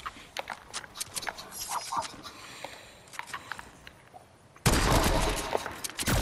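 Gunfire in an arena shooter video game, with a run of sharp shots and clatter followed by a loud, dense burst of firing near the end.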